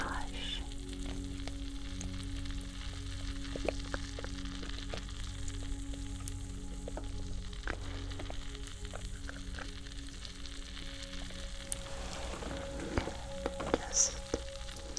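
Close crackling and fizzing right at the ear during an ASMR head spa ear massage, a steady sizzle with scattered soft taps and thuds throughout, no talking.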